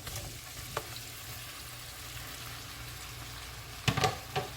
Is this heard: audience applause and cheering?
no